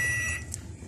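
A microwave oven switched on during a repair for a sparking fault gives a steady electronic beep tone that fades, followed by a brief higher blip over a low hum.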